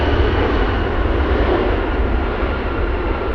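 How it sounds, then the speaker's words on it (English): An Alaska Airlines airliner arriving from Portland into Anchorage on gusty winds, a steady loud broadband engine roar that holds evenly throughout with no voices over it. "That's Alaska Airlines flying in from Portland, Alaska 775."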